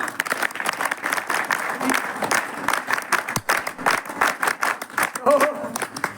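Scattered audience clapping at a Gurukul education event with two spiritual leaders, steady and moderately loud throughout, with a brief voice near the end.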